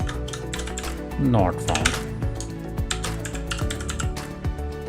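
Computer keyboard typed in quick irregular bursts of clicks while entering an Excel formula, with someone talking over the keystrokes.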